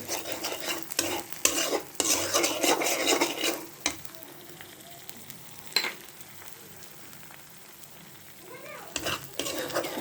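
Onions frying in mustard oil in a pan, a close crackling sizzle broken by scraping stirs, busy at first and then calming to a softer hiss.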